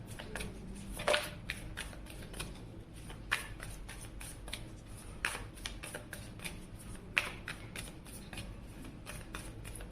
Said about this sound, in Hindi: अब हम उनके लिए कार्ड शफल कर रहे हैं।